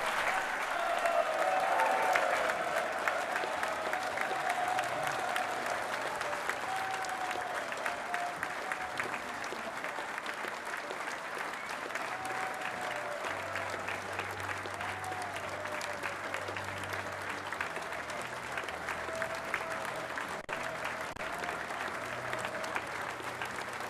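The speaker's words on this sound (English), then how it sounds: "receiving the warm applause from the delegates at the DUP conference here" Warm, sustained applause from delegates at a DUP party conference after a leader's speech, a dense steady crowd clapping that fills the whole stretch at moderate loudness without fading.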